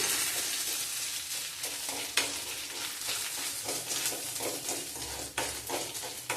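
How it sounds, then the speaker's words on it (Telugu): Tomato puree frying and being stirred in a pan, a dense close sizzle with soft scraping strokes and a few sharper knocks of the spoon, steady throughout. "టమాటా మిక్సీ పెట్టుకున్నాం కదండి, అది కూడా వేస్తాను."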